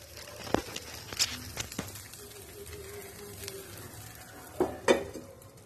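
Dosa batter frying in oil on a hot pan gives a steady, soft sizzle close by, broken by a few sharp metallic clinks of a utensil against the pan.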